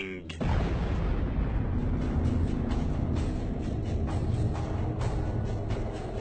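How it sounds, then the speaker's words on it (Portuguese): Explosion of an evaporating mini black hole rendered as a sound effect: a sudden loud boom that swells into a sustained, heavy, roaring rumble with crackling bursts throughout. "o material remanescente iria evaporar em uma explosão colossal e faria bang!"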